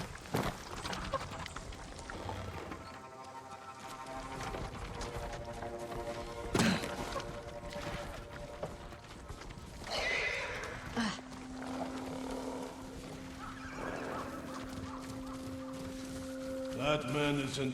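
Horses in the Ghost of Tsushima video game whinny and stamp amid a busy mix of hooves, impacts and background game sounds, with a sharp whinny partway through and a sustained tone near the end.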